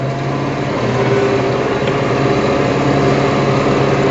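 A tractor engine hums steadily and loudly at constant revs while pulling a spreader across a field of organic fertilizer, a continuous close drone with no talk over it.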